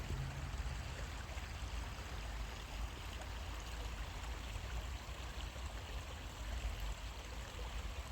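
A creek flows steadily with a continuous broadband rush of water, close and even throughout, with no voices.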